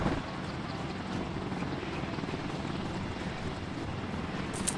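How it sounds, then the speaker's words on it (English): CH-53 Sea Stallion helicopters sitting on the ground with rotors spinning, a steady, loud, throbbing roar with a low pulsing beat that runs continuously throughout. "CH-53 Sea Stallion helicopters sat with rotors spinning."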